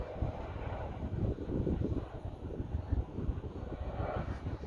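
Wind buffets the microphone in low rumbling gusts while pushing a small remote-control Maule M7 model plane, with a faint motor hum in the background and no clear speech.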